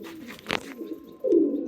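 A young pigeon in a loft gives a short, close, soft coo at the end, after a brief rustle.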